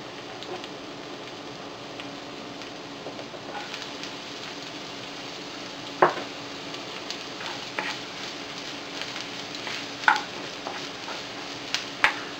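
Onions sautéing in a pan with garlic for spicy bopis, a steady soft sizzle with occasional clicks and a few sharp utensil taps, close by, with no talk.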